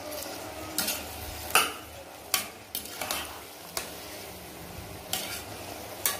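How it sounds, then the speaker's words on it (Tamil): Rice and lentils are stirred into South Indian kichdi cooking in a pot, with a spoon scraping and knocking against the pot in irregular close strokes over a steady low sizzle. "இந்த அரிசியும் பருப்பும் சேர்த்துட்டு ஒரு தடவை நல்லா மிக்ஸ் பண்ணி விட்டுக்கலாம்."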